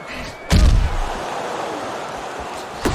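Punches land in the Fight Night Champion boxing game, with a heavy thud near the start and another toward the end over a steady crowd-like wash.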